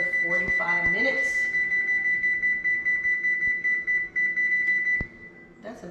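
A kitchen oven timer set for 45 minutes while lemon pepper wings bake at 425 degrees beeps as a steady, shrill continuous tone for about five seconds, with clicks of button presses near the start and a voice speaking over it.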